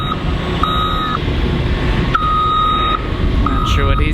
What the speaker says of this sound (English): we got this nice truck.